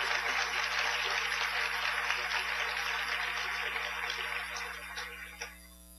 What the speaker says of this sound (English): So when we clap, let's clap for these 3 great inductees, and let's let them hear it.